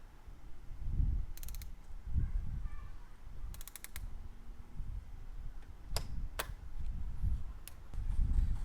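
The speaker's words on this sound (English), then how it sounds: "as we're tightening it, you just want to make sure to torque it down to 18 foot-pounds of torque" A ratchet wrench tightens the oil filter housing on a BMW N55 engine in an E90/E92 335i during an oil change. Bursts of quick ratchet clicks and sharp ticks repeat over a low, rumbling background, close and moderately quiet.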